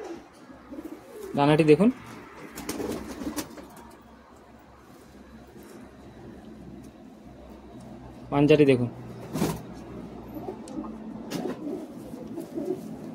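High-flying Madrasi pigeons coo in a loft, with two short bursts of cooing a few seconds apart over steady low background noise, while someone talks nearby.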